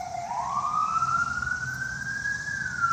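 A single long siren tone slowly rising in pitch, loud and steady over low road rumble.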